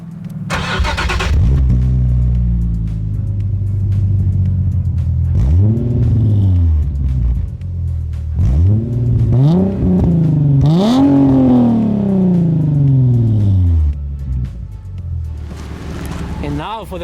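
A Nissan 350Z HR drives on the road, its engine rising and falling through several revving pulls and gear changes, loud and close throughout, with no talking over it.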